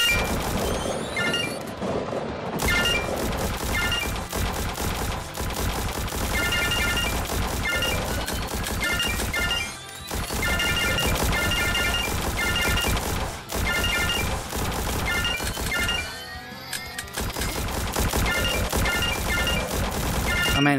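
Repeated gunshots from the on-rails Peace Maker VR shooting game, a steady stream of shots and clinks over busy game music, fairly quiet overall, with brief pauses around the middle.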